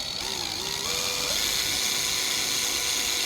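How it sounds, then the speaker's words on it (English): A power drill buffs the headlight of an MG ZS / Rover 45 180 with G3 Pro polishing compound out in the rain, giving a steady, close mechanical whir over constant rain hiss. "just go at it with the drill"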